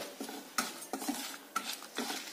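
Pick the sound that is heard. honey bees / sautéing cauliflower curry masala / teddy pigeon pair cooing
sautéing cauliflower curry masala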